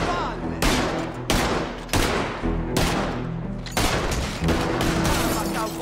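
Bursts of rapid gunfire from a weapon in Red Dead Redemption 2, about eight loud, close volleys in quick succession, each a sharp crack ringing into a sustained boom, with a low steady game hum beneath.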